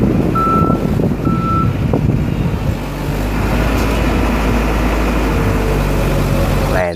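A toy compactor truck gives repeated reversing beeps, two clear tones early on over a loud steady engine-like drone that continues to the end.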